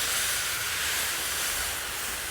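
Water hits a hot DISC-IT cooking disc and steams hard, giving a loud, steady hiss that barely fades over a couple of seconds, with no voices.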